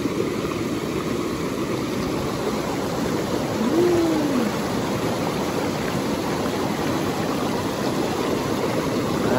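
Flowing stream water makes a steady broadband rush that stays constant and fairly loud throughout, with a faint short whistle-like tone briefly over it.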